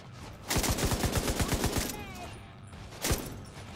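A rapid burst of about a dozen sharp gunshots from an automatic weapon in The Division 2 shooter, evenly spaced and loud, followed by a lull and a single further shot.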